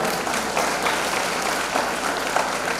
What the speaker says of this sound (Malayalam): എല്ലാവരും നല്ല രീതിയിൽ ക്ലാപ്പ് ചെയ്യാൻ.